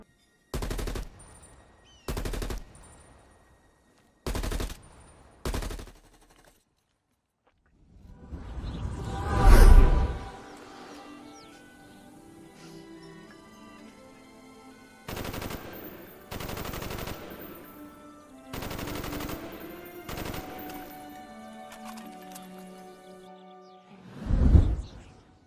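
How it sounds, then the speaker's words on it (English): Gunfire from the Call of Duty Black Ops video game: short loud bursts of automatic fire split by pauses, a whooshing blast in the middle, then more rapid bursts and a final heavy shot. "The guns sound and feel so damn good"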